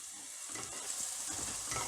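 Onions browning in a pan with cinnamon and cloves, stirred with a spoon: a steady close sizzle with soft scraping strokes through the spices, no voices.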